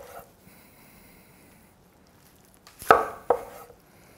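A knife cuts through a smoked, barbecued meatloaf stuffed with jalapenos and onions, giving two short, fairly close crunching slices a fraction of a second apart after a quiet stretch.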